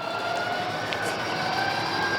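The electric awning motor on a Winnebago Minnie Winnie 31H RV extends the awning, giving a steady, continuous whirring drone with a faint whine that holds at an even level from start to finish.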